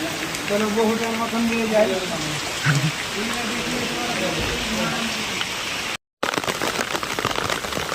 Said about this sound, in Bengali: এখন বৃষ্টি তো আর মাপ নাই